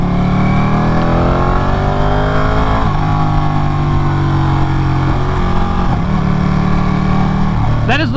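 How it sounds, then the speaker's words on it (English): Ducati Panigale 959 motorcycle engine accelerating hard and shifting up into third gear on a mountain road, a loud, steady rising drone with pitch sweeps at each shift, plus wind rush and brief clatter near the end. "That is right there the first time that I've kicked it up into third gear this entire ride."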